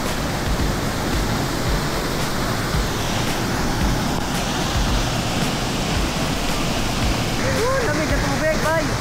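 The Talon Pedro waterfall roars as a dense, constant wash of falling water, loud and close, steady across the whole stretch.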